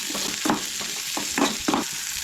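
Garlic, curry leaves and onion fry lightly in a pan for a Goan Shravan veg thali, a steady close sizzle broken by a few stirring scrapes.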